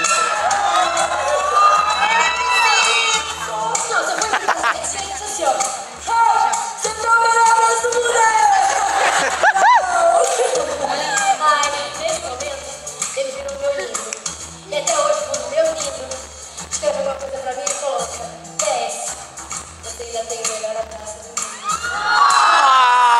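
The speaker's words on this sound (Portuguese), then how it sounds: "Você tem o melhor aplauso do mundo." A large theatre audience at a stage play in Brazil cheers and applauds loudly and continuously, with shouts and whoops rising over a dense wash of clapping, close and full throughout.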